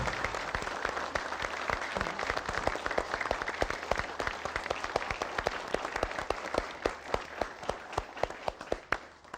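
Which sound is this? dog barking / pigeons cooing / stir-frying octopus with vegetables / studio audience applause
studio audience applause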